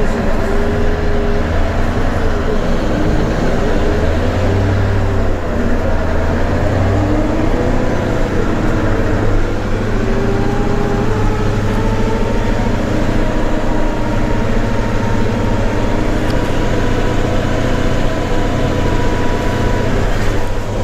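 Kirovets K-742M tractor engine running steadily, a loud continuous low drone with a shifting tonal hum, heard from inside or close by with occasional faint voices.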